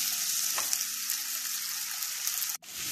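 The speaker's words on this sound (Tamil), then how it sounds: "இப்போ இஞ்சி பூண்டு பேஸ்ட்டை நான் ஆட் பண்ணிக்கலாம்." Ginger garlic paste sizzles steadily in a hot pan for a Pallipalayam country chicken fry, a close, constant frying hiss with a few faint stirring scrapes and a brief sharp clatter near the end.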